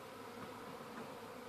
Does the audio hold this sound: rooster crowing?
no